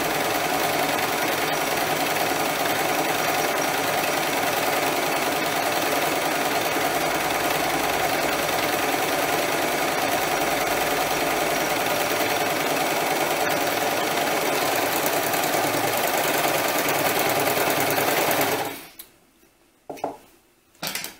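A sewing machine runs a heavy-duty double-thread stitch through doll dress fabric, a steady loud mechanical whir that holds for about eighteen seconds before stopping abruptly, followed by a few faint handling sounds.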